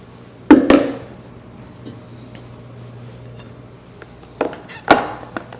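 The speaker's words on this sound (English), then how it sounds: "all you got to do is just kind of scrape down your container" A dough container for poolish baguettes scraped and knocked, with a few sharp thuds and scraping strokes near the start and end, separated by quieter rubbing.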